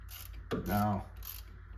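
A ratchet draws up wheel bearing bolts on a 2011 Chevy Silverado, with a short burst of clicking pawl and metallic turning over a low background hum, and no talk.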